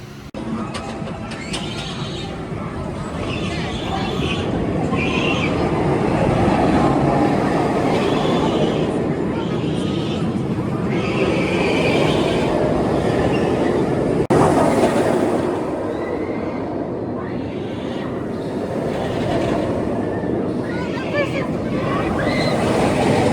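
A loud, sustained roar swells and fades twice as a roller coaster train rushes past nearby, with rattling and wind-like noise throughout.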